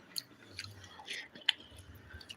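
Someone chews a dinner mouthful taken with curd, soft close-up crunching and squishing bites spread over a couple of seconds, with one sharper click partway through.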